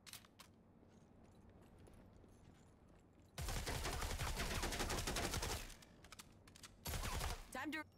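Bursts of gunfire at targets in the Rogue Company video game on Nintendo Switch: a quiet stretch, then a loud sustained volley of about two seconds, and a shorter loud burst soon after.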